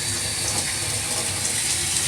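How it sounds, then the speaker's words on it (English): Hot water runs steadily from a sink tap, a continuous close, bright hissing rush with no talking over it. "I'm going to turn on the hot water because we want to use hot water."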